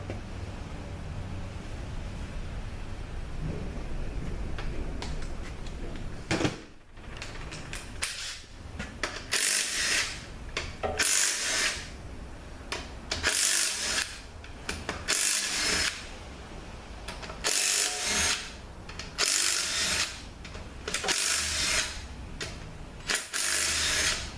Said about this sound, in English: now we're going to get the pump bolts out